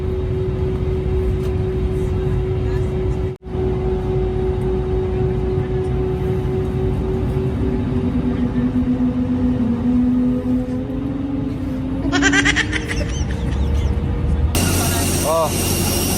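A passenger airplane in flight gives off a loud, steady engine drone heard from inside the cabin, with a brief dropout partway through and shifting tones near the end.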